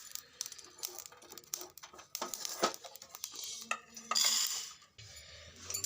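Whole spices being stirred in a pan for a tomato and date chutney tempering, with rapid metallic clinks and scrapes of a spoon against the pan, close and irregular, without speech.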